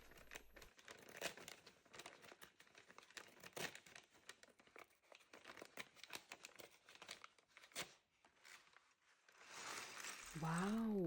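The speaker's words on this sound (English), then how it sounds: "I am opening packet number 1 and I'm very excited to see the pieces inside." Paper parts bag from a Lego Lucky Bamboo 10344 set being torn open and handled, giving close, irregular crinkling and rustling bursts with a brief tone near the end.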